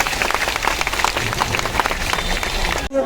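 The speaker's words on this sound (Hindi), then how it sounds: "साथियों, एक बार ताली बजा करके आप लोग स्वागत करिए।" Crowd at an outdoor protest rally in India clapping to welcome a newcomer, loud dense applause that ends abruptly.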